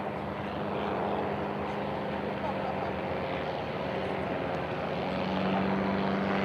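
Engines of WW1 triplane aircraft drone steadily in flight, a continuous loud propeller roar throughout with a low hum that swells slightly near the end.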